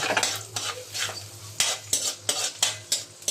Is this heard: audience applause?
no